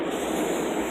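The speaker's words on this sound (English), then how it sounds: "Now arriving on track 1, platform A, is the 3:26 p.m. train to Penn Station." A train pulls into a station platform on a line to Penn Station, its loud, continuous rumble and rush holding steady without a break, with no voices over it.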